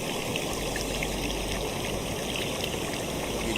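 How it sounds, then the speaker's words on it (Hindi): Water pours from a waterfall in a forest, a steady, loud, continuous rushing roar with no talking. "ये झरने से पानी गिरता हुआ देखिए, कितना ब्यूटीफुल दृश्य है।"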